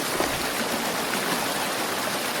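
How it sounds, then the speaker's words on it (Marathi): Clean canal water flows steadily beside a riverside cooking spot in Konkan, a continuous close rushing hiss with no breaks. "ये पानी ना डायरेक्ट कैनल के पानी है"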